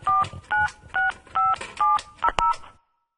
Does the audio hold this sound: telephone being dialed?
yes